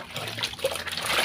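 Tap water trickles and splashes briefly while soap-washed clothes are rinsed, a soft, close, uneven running sound.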